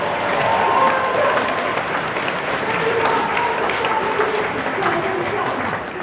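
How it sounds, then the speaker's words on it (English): Studio audience clapping in a sustained round of applause, dense and even from start to finish with a faint murmur of voices underneath. "nice round of applause"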